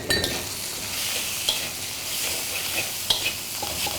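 Shrimp and chicken coated in salt, sugar and cornstarch stir-fried with egg for fried rice, a steady close sizzle with scraping stirs and occasional light clinks of the utensil against the pan, no talking.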